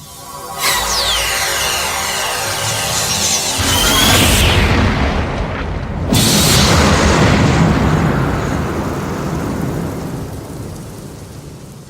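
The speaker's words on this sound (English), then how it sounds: "There's one small explosion and then a bigger one." A holodeck converter blows up with a smaller blast followed by a bigger one, each a loud roaring boom that rumbles and decays, the second swelling after a brief dip.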